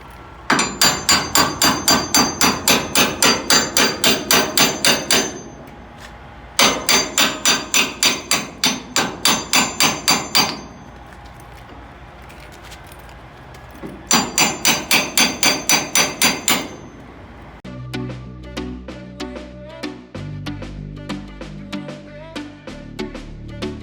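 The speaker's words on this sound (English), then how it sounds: "I'm gonna get a hammer and just hit them so they can turn in" A hammer strikes truck parts to turn them in, coming in three loud bursts of rapid metallic blows with pauses between. A different rattling, mechanical clatter follows at the end.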